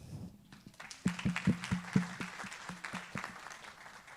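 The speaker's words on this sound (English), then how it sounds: "she deserves a round of applause" A small audience at an annual meeting gives a quiet round of applause, with distinct, separate claps at an uneven rhythm that soften toward the end.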